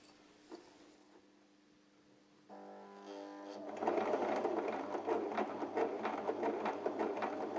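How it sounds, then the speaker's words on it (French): Domestic sewing machine stitching the seam of an oval ironing pad: a quiet hum first, then the motor speeds into a loud, steady rapid clatter of needle strokes, close up. "Je vais donc coudre jusqu'au repère, puis je vais sécuriser à nouveau ma couture."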